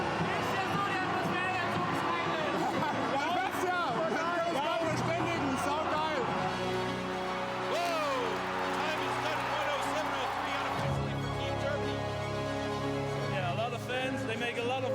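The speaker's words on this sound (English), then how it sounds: "And the crowd goes bananas" A crowd roars and cheers at a STIHL Timbersports Nordic Rookie Championship competition, loud and continuous, with an excited commentator talking over it throughout.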